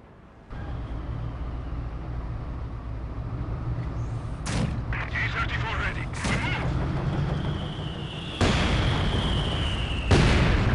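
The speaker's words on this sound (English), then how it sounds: "Barrage target confirmed." Artillery shells explode in a barrage in the World War II strategy game Company of Heroes 2, with a loud rumbling battlefield backdrop, several sharp blasts and a rising whistle, and a brief radio voice.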